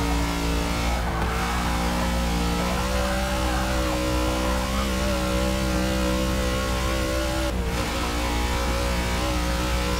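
A Dodge Rebel in Forza Motorsport 6 revving hard, its engine holding a steady loud drone with two brief gear-change dips, close and continuous with no talk over it.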